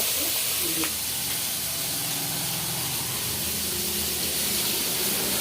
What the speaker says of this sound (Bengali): এই চিংড়ি মাছগুলো ভেজে আমি চিংড়ি মাছগুলো ভেজে নিচ্ছি বড়ো চিংড়ি